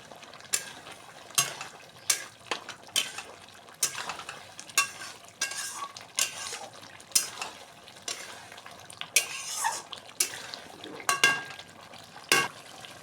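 A spoon repeatedly stirs ghee into a bubbling fish kaliya made with Ganges fish, giving sharp rhythmic scrapes and clinks against the pan over a light sizzle, close up and with no talking.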